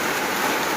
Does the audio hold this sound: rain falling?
yes